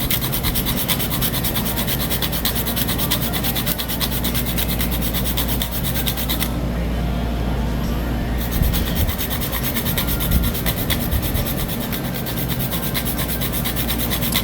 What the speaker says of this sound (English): So I'm just going to grate half of the nutmeg.